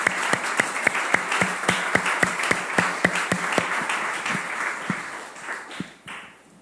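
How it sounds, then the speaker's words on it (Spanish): Children and a church congregation clap together during a service, the claps landing in a strong, even rhythm that is loud and close before gradually loosening and fading out. "¿Le aplaudimos nosotros también al Señor?"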